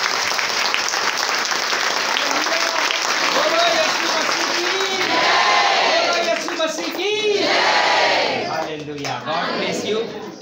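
A church congregation at a spiritual revival seminar in Yavatmal claps loudly and steadily, with whoops and shouts rising over the applause throughout before it thins out at the end.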